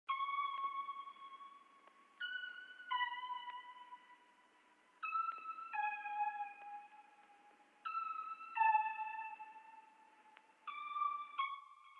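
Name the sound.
shiny shimmers synth sample, FL Studio Chill Lofi Flex expansion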